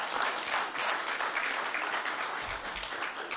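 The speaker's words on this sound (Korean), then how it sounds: "우리 감사한 마음으로 박수 한번 쳐주시죠" Steady applause from an audience at a humanities lecture in Gwangju, a dense wash of many hands clapping at moderate volume, continuous throughout with no speech over it.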